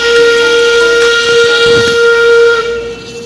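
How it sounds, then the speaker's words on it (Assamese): A steam whistle blows loud and close with a long steady shriek as a train pulls into Darjeeling, rail rumble underneath, fading toward the end. "তো ট্ৰেইন আহিল"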